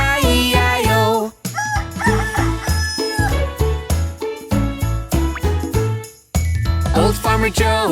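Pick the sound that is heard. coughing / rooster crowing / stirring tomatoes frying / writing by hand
rooster crowing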